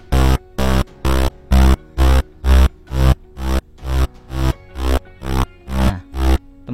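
A Serum synthesizer patch shaped with envelope hold, giving a sidechain-like pumping effect: about fourteen loud, rich synth stabs in a steady rhythm, each cut off abruptly before the next, with no talking.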